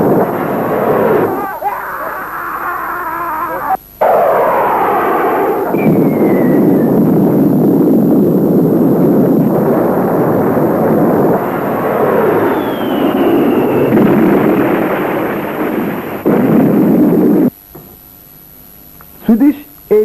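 A Biafran baby fighter strafes the 16th Brigade and destroys oil depots in a war film, a sustained loud roar of aircraft and explosions rumbling on for most of the stretch before cutting to near silence with a few final bursts.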